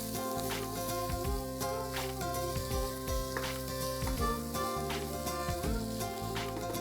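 Sprouted moth beans being stirred as they fry in a pan with salt, a continuous low sizzle broken by repeated spatula scrapes at a loose, uneven rhythm, close by, with background music underneath and no talk.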